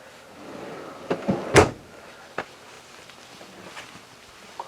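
A long, shallow storage drawer beneath the bunk of a Spirit 31H RV rental being slid and knocked, giving a few brief wooden thumps and clatters in a quiet interior, with one sharper bump near the middle.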